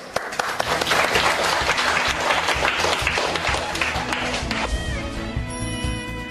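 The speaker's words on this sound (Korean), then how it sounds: "다 같이 그런 의미에서 박수 한번" A school class of students applauding together after hearing their grades improved, a sustained burst of dense, close clapping that thins out toward the end.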